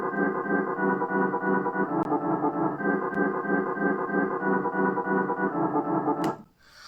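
Sampled sound run through an arpeggiator for a track, a fast, steady pulsing pattern of repeated tones with a few faint clicks, ending in a sudden sweep and cutoff.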